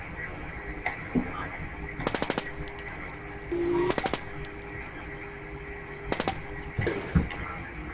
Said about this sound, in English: Always Vegas shooting somebody